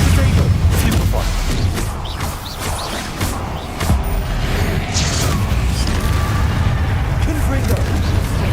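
Blasting-spell explosions go off in Hogwarts Legacy, with booming impacts and crackling bursts spread across a busy stretch of combat sounds while a voice calls out over the action.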